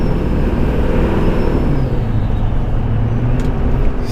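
A 2005 Chevy Duramax twin turbo diesel pickup of about 600 hp cruising through the city, a loud, steady engine drone and road roar from inside the cab with a faint turbo whistle, no one talking.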